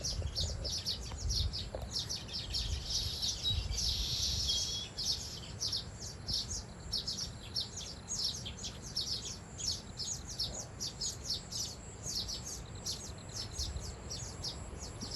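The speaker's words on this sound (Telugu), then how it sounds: "చూడండి నా పక్షులు ఏమరుస్తున్నాయో" Several birds chirp and call repeatedly in quick bursts, moderately distant, over a low outdoor rumble and wind.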